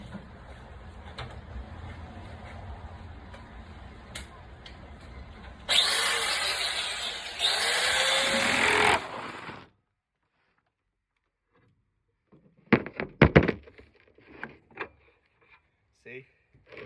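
Impact wrench on the front suspension bolts of a VW T5 van, giving a loud continuous rattling burst for several seconds, then silence followed by brief clanks of the tool and bolt.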